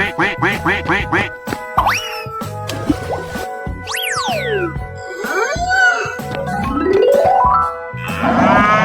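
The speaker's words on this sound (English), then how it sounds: "Quack, quack, quack, quack, quack, quack." Cartoonish duck quacks from a 3D animal slide video game, a rapid run of six loud quacks opening the clip, followed by springy boings, sliding pitch sweeps and other playful game effects.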